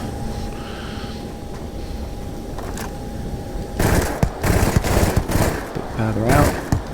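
Drum Beat weapon fired in the video game Starfield: after a quiet stretch with a faint tone, rapid bursts of automatic gunfire break out, loud and repeated, with a voice talking over the shots.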